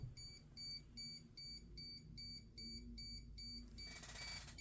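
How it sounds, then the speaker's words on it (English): A Vaultek DS2i biometric safe sounds its alarm, a series of rapid, evenly spaced electronic beeps that play fairly quietly and steadily throughout, ending with a brief burst of noise. "Listen to the alarm."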